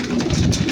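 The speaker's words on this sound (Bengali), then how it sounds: "এখানে কোনা ভাই অনেক কবুতরের বাচ্চা আছে" Pigeons cooing inside a home pigeon coop with young chicks, a short burst of soft throaty coos close to the microphone.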